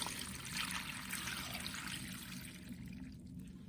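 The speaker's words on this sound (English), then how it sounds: "we wanna add enough water to cover all the bones" Water from a tap runs steadily into a stockpot over roasted bones for a brown stock, with a continuous broadband trickling and splashing that holds even throughout and fades slightly toward the end.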